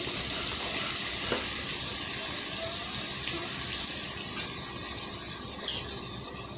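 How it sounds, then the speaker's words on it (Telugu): Tomatoes and onions frying in oil for tomato curry, a steady dense sizzle with occasional faint crackles, close and continuous with no voices. "టమాటాలు ఉల్లిపాయలు ముందు వేసేసుకుందాం నూనెలోకి"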